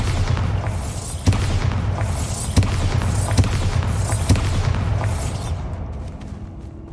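Bombarda spell blasts go off in the video game Hogwarts Legacy. Several sharp booms punctuate a dense, rumbling game soundscape at roughly one-second intervals, then fade as the noise thins out.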